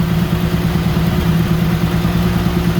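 An engine idles in a steady, continuous low rumble with a mechanical clatter. It sounds close and loud, with no talk over it. The engine is being tested on a radiator and fans that may not cool it enough.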